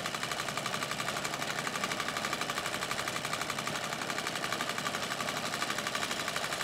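A White Rotary treadle sewing machine stitches denim with dark green thread, giving a fast, even mechanical chatter that runs steadily without pause, with no talking.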